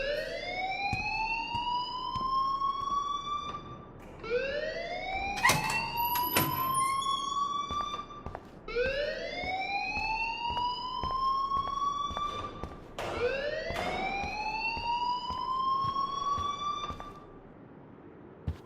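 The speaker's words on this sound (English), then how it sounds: "please turn off that alarm since that's your job." Rising, wailing electronic alarm in the video game Life is Strange, repeating in four long sweeping cycles about every four seconds, loud and steady, with a few sharp clicks between the sweeps.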